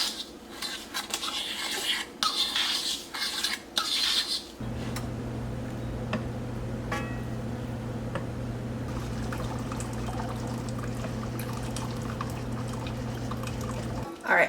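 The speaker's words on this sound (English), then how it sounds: "I'm going to mix that into my sugar" A spoon scrapes and rubs briskly in a bowl while cinnamon is mixed into sugar, a few seconds of gritty stirring. A steady low hum carries on afterwards.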